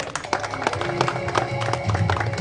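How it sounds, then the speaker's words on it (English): An audience applauds at a cricket premier league event, a dense spread of clapping from the crowd carried steadily through the whole stretch with a low hum underneath. "Big round of applause for him"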